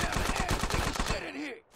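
Rapid automatic gunfire rings out in GTA San Andreas as a tree is shot, a loud close burst of about ten evenly spaced shots that stops abruptly, leaving a short fading tail.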